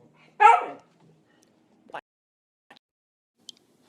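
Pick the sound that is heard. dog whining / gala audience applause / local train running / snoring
dog whining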